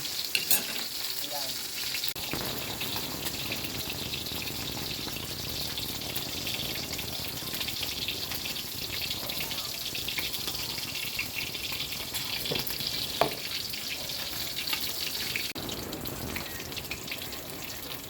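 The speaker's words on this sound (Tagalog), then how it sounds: "Lagay na natin ang isda sa pinakuloang tubig at saka bagoong at saka luya at sibuyas." Fish simmering in boiling water with shrimp paste, ginger and onion in a home kitchen, a steady close bubbling and sizzling hiss with a few faint clinks of utensils throughout.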